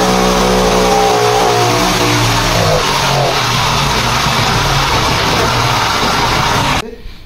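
A Bajaj Avanti scooter in scrap condition, awaiting restoration, runs loudly and steadily close to the listener with a constant rough engine drone that cuts off sharply near the end.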